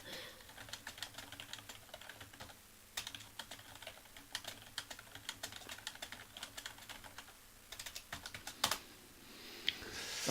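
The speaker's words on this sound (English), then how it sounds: "This is a lot of typing." Rapid, irregular typing on a computer keyboard, with bursts of sharp key clicks that continue for several seconds, close and fairly quiet.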